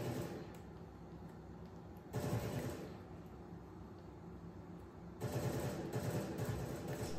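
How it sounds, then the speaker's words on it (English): Video game gunfire aimed at an enemy, two bursts of rapid automatic fire a few seconds apart over a low background hum. "try shooting an enemy using controller"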